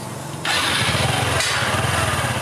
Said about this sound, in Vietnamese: Rồi bây giờ mình sẽ nổ máy.